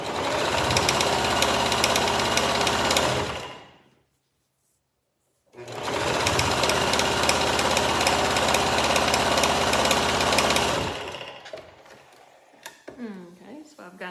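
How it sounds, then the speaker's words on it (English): Close, loud sewing machine running in two long steady bursts with a short silent break between while stitching the folded side seam of a pillowcase, ending with a few quiet handling sounds and faint talk. "sew down the side that's folded, using the edge of your presser foot as a guide"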